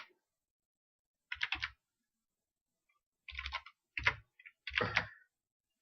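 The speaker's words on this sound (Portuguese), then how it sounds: "Vamos digitar" Short bursts of typing on a computer keyboard: four separate clusters of rapid key clicks with silent gaps between them, close and fairly quiet, with no voices.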